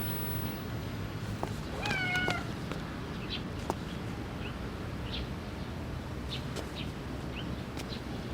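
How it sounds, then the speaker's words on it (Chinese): A small kitten gives a single clear, rising-then-falling meow about two seconds in, fairly close, against a quiet outdoor background with faint bird chirps scattered afterward. "好可怜的小猫咪，你怎么在这儿呀？"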